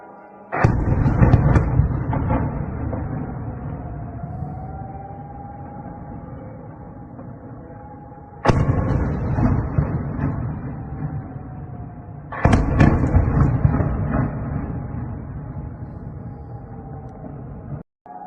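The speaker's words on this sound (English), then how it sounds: "this was Kharkiv last night getting battered by Russian drones. Lots of explosions back to back." Three heavy booming blasts from Russian drone strikes on Kharkiv go off at intervals, each with a rumbling tail, while a wailing air raid siren rises and falls faintly underneath.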